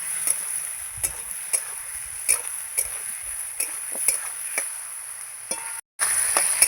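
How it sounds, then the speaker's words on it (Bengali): Spices are stir-fried with salt and turmeric in a pan: a spatula scrapes and taps at a steady rhythm, about twice a second, over a constant close sizzle, with a brief dropout near the end. "এই যে লবণ দিচ্ছি হলুদ দিয়ে দেবো দিয়ে নাড়াচড়া করে একটু কষাতে থাকবো"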